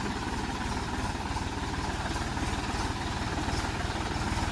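A tractor engine runs at idle nearby, a steady, loud, low rumbling throb that continues evenly with no pauses.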